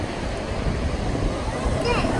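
Sea waves wash steadily onto a sandy beach with wind buffeting the microphone, a broad continuous roar at moderate level throughout.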